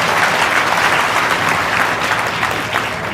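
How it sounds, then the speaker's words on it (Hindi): Children clapping together at a village cowshelter festival procession and cultural program, a loud, dense burst of applause sustained for a few seconds before easing slightly. "एक बार बच्चों ताली बजाते"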